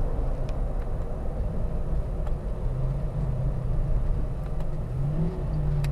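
A car's engine rises in pitch as the transmission is downshifted in manual mode through an aftermarket control module, a steady close drone with rising tonal sweeps over road noise and no talking.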